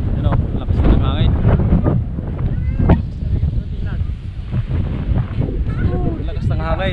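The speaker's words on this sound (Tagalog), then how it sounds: "Lakas na ng hangin." Strong wind buffets the microphone with a constant loud rumble and roar, gusting throughout while people talk faintly underneath.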